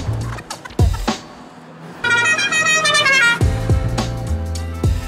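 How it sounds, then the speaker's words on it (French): A Škoda car's horn sounds in a sustained honk lasting over a second, framed by short thumps and background noise before and after. "Le klaxon. Eh oui, le klaxon."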